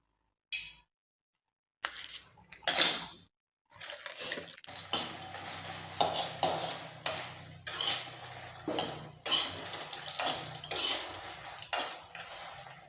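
Dried red chillies sizzling as they fry in a little oil in a pan for idli podi, a steady close crackle with repeated bursts of stirring and scraping, no talking.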